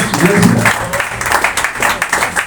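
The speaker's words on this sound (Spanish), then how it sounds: "Denle un aplauso a Dios" A Spanish-speaking church congregation breaks into brief, lively applause during a sermon, with voices mixed in over the clapping.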